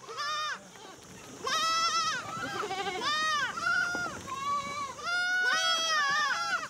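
Goats bleat repeatedly in a rural Moroccan region of fishermen and goat herders, several wavering cries overlapping close by, some louder and some fainter, with short gaps between calls.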